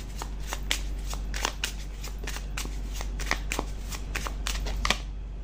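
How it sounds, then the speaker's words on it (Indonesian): Tarot cards being shuffled by hand during a reading, a steady run of crisp riffling slaps and flicks, close and clear over a low hum. "Coba aku tarik beberapa kartu lagi ya"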